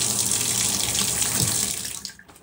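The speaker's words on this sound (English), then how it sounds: "you know, faucets, bath shower, and the washing machine." Water runs steadily from a faucet in an off-grid home, a continuous close splashing rush that stops abruptly near the end.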